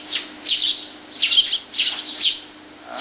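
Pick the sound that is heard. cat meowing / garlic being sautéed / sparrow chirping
sparrow chirping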